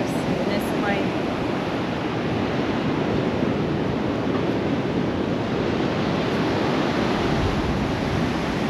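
Sea waves on the Mallorca coast make a steady, loud, washing roar that never lets up, heard close and alone.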